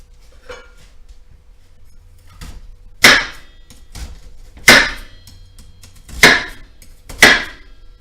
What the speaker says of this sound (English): We're now going to cut the onion.